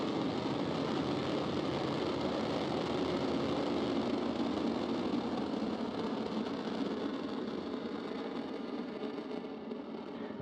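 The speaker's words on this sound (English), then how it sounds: "Ignition, engines full power, and liftoff." A SpaceX Falcon 9 lifts off on a Starlink launch, its engines giving a continuous, heavy rumbling roar that holds steady and slowly eases, heard from a distance with no talk over it.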